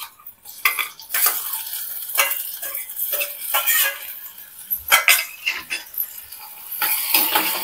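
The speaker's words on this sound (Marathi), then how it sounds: "टोमॅटो चांगला मऊ होईपर्यंत आपण परतून घेऊया" Finely chopped tomato sautéing in a pan for a mushroom sabzi, loud and close, with a constant sizzle and busy scraping stir strokes that come in uneven bursts.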